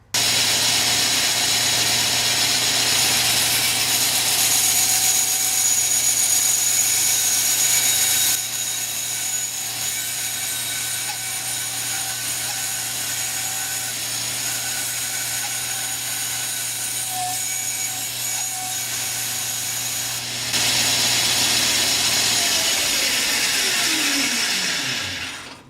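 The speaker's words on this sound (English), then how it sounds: "I can just take my bandsaw and cut that shape out, and then sand both pieces at the same time at the sander" A power tool run on oak, a continuous loud whine with a steady low hum, shifting in tone partway through and winding down at the end, with no voices.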